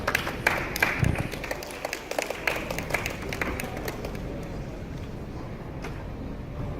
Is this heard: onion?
no